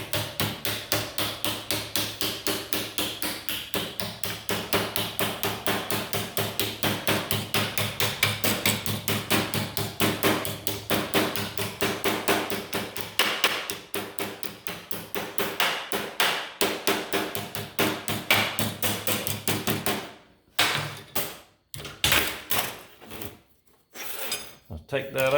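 Steel bar stock being beaten flat with a small body hammer on an anvil-like setup during a generator repair, a long run of rapid, loud, ringing metallic blows in steady rhythm, then sparser, uneven strikes near the end.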